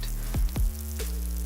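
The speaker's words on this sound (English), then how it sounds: "real mozzarella cheese melting over a bed of dough made fresh today" Hot mozzarella cheese sizzling as it melts over fresh pizza dough, a steady close crackle broken by two quick swooping whooshes partway through.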